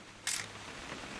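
A camera shutter clicks once in What Remains of Edith Finch, a short bright burst standing out against a quiet low background hum with no talking.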